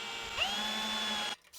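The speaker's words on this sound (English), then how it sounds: "So I need to drill those with a 5/16 and then tap them to 3/8." A power drill runs up to speed boring a 5/16 inch hole in a steel tool stand, holding a steady whine before cutting off abruptly near the end.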